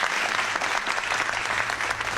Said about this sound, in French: Applaudissez d'abord pour le peuple de l'AIS et les dirigeants.